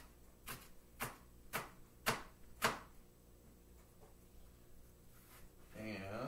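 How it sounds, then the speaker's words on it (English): A knife chops orange and red bell pepper, five crisp, evenly spaced thumps on a cutting board, followed by quieter handling noises. "Cut this pepper up."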